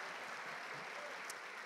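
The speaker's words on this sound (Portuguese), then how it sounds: "Pode aplaudir ao Senhor" A church congregation applauds in a steady, even wash of clapping that sounds distant and faint, with no single claps standing out.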